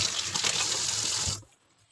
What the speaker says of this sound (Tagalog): Hugas muna ako ng kamay.